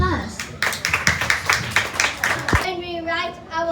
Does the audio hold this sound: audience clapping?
yes